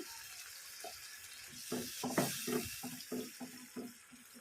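Water splashes and gurgles into a cooking pot of chicken in a series of short pours, with faint kitchen clatter in the background.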